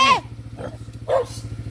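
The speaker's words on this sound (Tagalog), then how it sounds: "Ay, ang daming aso." Dogs on a countryside trip in Alfonso, Cavite bark twice, sharp and fairly close, over a steady pulsing motor hum, with a faint voice in the background.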